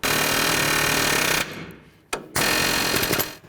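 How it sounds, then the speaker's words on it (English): A pneumatic air hammer rattles loudly in rapid bursts against the steering knuckle of a Chevy S-10 pickup, pauses briefly with a short blip, then resumes its fast hammering. "I'm just going to use a little air hammer here"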